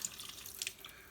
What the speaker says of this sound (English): So I'm just going to dump that down the drain.